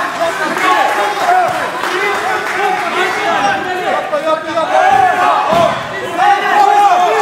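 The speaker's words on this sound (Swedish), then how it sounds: "Man hör coacherna med än publiken." Coaches shouting from the sidelines of a close wrestling match, loud overlapping voices yelling over a noisy, cheering crowd for several seconds without pause.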